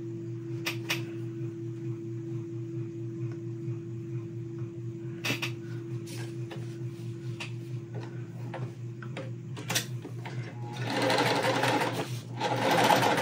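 A home sewing machine stitches quilt pieces for a small lemonade-themed quilt, its steady motor hum and rapid needle ticking running continuously and close, briefly pausing and starting again, with louder rustling of fabric near the end.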